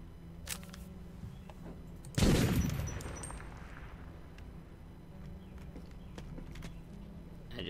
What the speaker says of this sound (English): Scared myself by shooting my own gun.